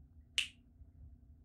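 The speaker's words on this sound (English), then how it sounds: "When I snap my fingers, you will obey our every command." One crisp finger snap, close and sharp, standing alone against a faint low background hum.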